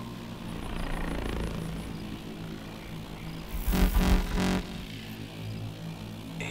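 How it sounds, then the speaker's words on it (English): A helicopter moving off in Call of Duty: Advanced Warfare, with a steady rotor drone under the game soundscape and a brief louder burst of rotor whine midway before the noise settles back. "Chopper's moving off."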